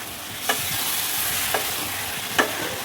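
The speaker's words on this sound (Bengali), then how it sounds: "একটু সামান্য জল দিয়ে এটাকে কষিয়ে নেবো যাতে মশলাটা পুড়ে না যায়" Spices with a little water sizzle steadily in a wok, a close continuous hiss broken by three distinct scraping strokes of the stirring spoon.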